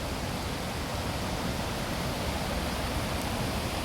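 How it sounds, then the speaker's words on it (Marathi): Floodwater from heavy rain rushes through a river, a dense, constant roar of water with no break, loud and filling the whole scene, no voices. "हे बघा एकदम खतरनाक पाणी जात आहे"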